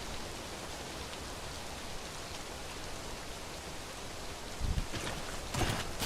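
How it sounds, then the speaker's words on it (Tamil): Rain falls steadily in the video game Death Stranding, a constant hiss of drops across the whole stretch, with a couple of louder splashing bursts near the end and no voices. "மழை இன்னும் பெய்யுது"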